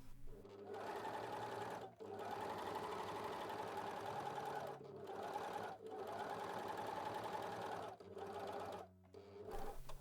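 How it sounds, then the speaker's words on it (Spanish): A four-thread, two-needle overlock sewing machine runs in steady bursts while sewing fabric, close and moderately quiet, with brief pauses between runs and no talk. "Con la máquina a 4 hilos, con las 2 agujas, debo coser realmente hasta el fin de la tela"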